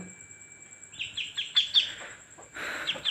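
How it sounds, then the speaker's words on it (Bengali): Chinese duck ducklings, newly hatched, give a string of high, thin chirps in short bursts, with a brief pause before a louder cluster near the end; no speech. "কত সুন্দর বাচ্চা চীনা হাঁসের বাচ্চা এগুলা"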